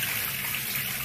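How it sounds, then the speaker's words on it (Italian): Running water pours steadily over a freshly inked tattoo as it is rinsed for the first time, a continuous soft splashing stream close to the mic with no talk. "Io tipo adesso lo sto lavando per la prima volta, quindi passo l'acqua così, senza il tocco."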